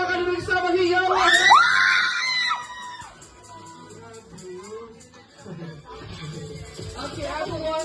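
A birthday-party audience screams and cheers loudly, with clapping under the shouts, fading to scattered voices and talk by the end.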